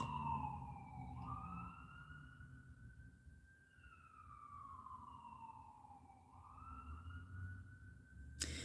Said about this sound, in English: It's sirens.